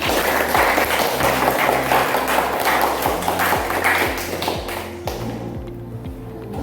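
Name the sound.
audience applause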